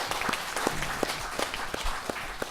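A small audience claps at a Buddhist monk's question-and-answer talk show, greeting the monk with moderate, somewhat sparse applause and distinct individual claps over about two and a half seconds.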